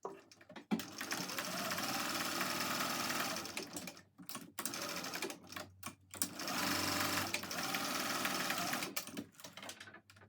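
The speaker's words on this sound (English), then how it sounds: "we're just going to top stitch down both sides with 1/8 of an inch seam" Sewing machine top stitching both sides of a backpack strap at an eighth-inch seam, a steady rapid clatter in two long runs with short stops and restarts between them, close but fairly quiet.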